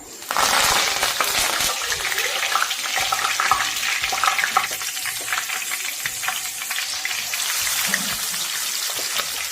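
Curry leaves and chicken pieces frying in hot oil in a kadai, producing a loud, steady, dense sizzle and crackle with occasional sharper spits, close up and continuous, with no talk over it.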